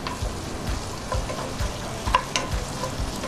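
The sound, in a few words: garlic and meat stir-frying over medium heat for borscht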